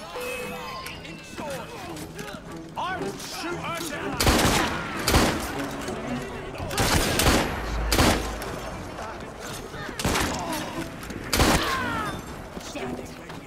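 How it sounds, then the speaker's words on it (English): Gunshots ring out from the player's firearm in Assassin's Creed Syndicate, sharp loud cracks spaced a second or two apart over a busy game soundscape, with talking underneath. "dispatch these guys pretty quickly by using my gun"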